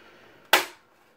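A plastic case clip on an HP Envy 17-s017cl laptop snaps once as the case is peeled off, a single sharp, close crack that decays quickly in a quiet room.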